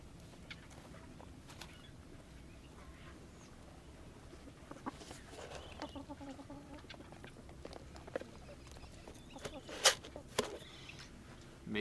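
Three roosters and two hens on a farm clucking and calling softly at a distance, with a few sharper squawks near the end over a low background hum.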